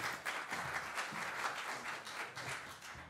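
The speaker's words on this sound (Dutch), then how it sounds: "Ja, applaus," Audience applause at a local politics book presentation, a continuous patter of many hands clapping, moderately faint and steady, with no one speaking over it.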